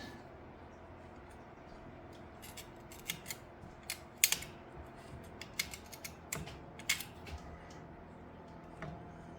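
A small razor knife cuts away hair wound tightly around a part, giving a quiet run of crisp snipping clicks at an uneven pace over a low steady background hum.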